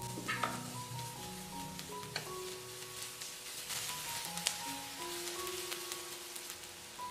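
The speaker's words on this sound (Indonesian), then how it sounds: "tumis bawang bombaynya hingga wangi" A soft, steady sizzle of onions sautéing in oil in a pan, with occasional light clinks and stirring noises close by.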